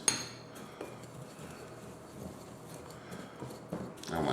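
Spice mix of paprika, thyme and a dash of cayenne being stirred in a bowl, giving close, steady scraping and light clinks of a utensil against the bowl, with a few sharper knocks and no talking.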